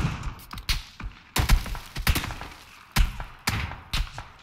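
Rapid bursts of gunfire in a PUBG squad battle, loud and close, with several clustered volleys of sharp shots and thumps spread across the moment.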